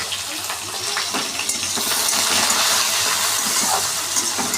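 Onions sizzle and fry steadily in a pan after cumin seeds, a continuous close hiss of hot oil with soft crackles throughout and no talk.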